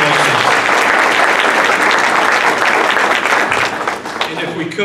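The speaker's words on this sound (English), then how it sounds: "Let's give all of our recipients today another round of applause" An audience at an awards ceremony gives a sustained round of applause, a loud, dense wash of clapping with faint voices underneath.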